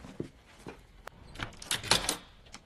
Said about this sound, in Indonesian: Selesai mengunci pintu